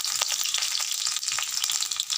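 Chopped garlic fries in hot oil in a wok on a gas stove. A dense, close crackling sizzle carries on steadily, with small pops scattered through it and no one talking.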